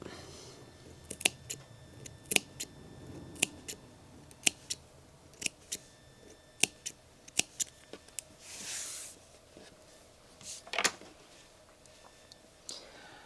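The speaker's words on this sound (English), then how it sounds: "And do another snip." A pair of scissors snips thread on a needlework button ornament, making a long series of crisp, close clicks at an irregular, unhurried pace. A brief rustle of handling comes partway through.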